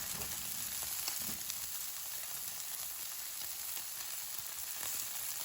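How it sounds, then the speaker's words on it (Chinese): Pork belly sizzles and spits in a pan over low heat, an even, close crackling hiss that stays constant throughout, with no talking. "用筷子把五花肉全部翻面，继续小火慢煎"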